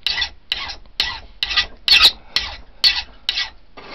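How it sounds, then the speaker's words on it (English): A hand file scrapes across the cut end of a rivet to flatten it, about eight steady rasping strokes at an even rhythm, close up and alone. "just take any kind of file and smooth that cut of the end of the rivet up so it's nice and flat"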